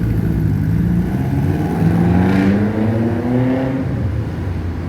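Car engine pulling in second gear, a steady loud drone with the pitch rising gradually as it accelerates through a city street near Woolloomooloo and Potts Point, continuous and close throughout.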